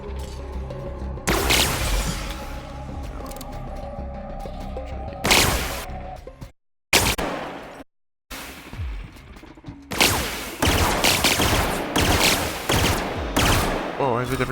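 Handgun gunfire in The Outer Worlds, heard as repeated sharp bursts of shots, some in rapid clusters, separated by brief silent gaps and backed by a low game ambience.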